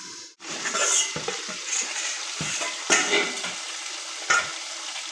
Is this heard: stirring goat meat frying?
yes